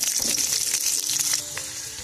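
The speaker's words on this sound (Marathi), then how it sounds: "आता या गरम तेलात 2 मोठे कांदे कट करून घालू।" Two large chopped onions fry in a spoonful of hot oil in a pan for an eggless anda curry, giving a steady bright sizzle with faint stirring scrapes and no talk.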